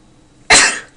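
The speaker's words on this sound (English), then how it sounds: "Sorry, I just sneezed." A single sudden sneeze from a person indoors, one sharp loud burst that fades quickly, close to the listener, with no talking during it.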